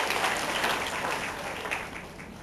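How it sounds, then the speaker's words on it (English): A crowd at a school sports banquet claps steadily for graduating seniors, dense and sustained applause that slowly fades a little toward the end, with no voices on top. "Give these seniors a big round of applause."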